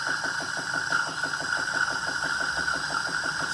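A Saeco Xelsis SM7684/04 super automatic espresso machine runs with a steady, fairly quiet mechanical hum and a fast rhythmic pulsing from its pump, with no other sounds.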